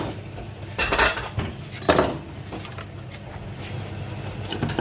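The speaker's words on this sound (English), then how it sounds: "I will now put that back in the oven to brown the center" A metal turkey roasting pan clatters and scrapes as it slides back into a home oven, two louder bangs of metal standing out over a low background hum.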